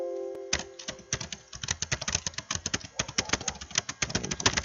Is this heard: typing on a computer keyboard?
yes